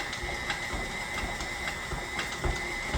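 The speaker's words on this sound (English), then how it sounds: "we're going to whisk these together" Repeated metallic clicking and scraping of a small whisk against a bowl while ingredients for a coconut buttermilk pound cake are mixed, a steady close rattle with a few louder strokes.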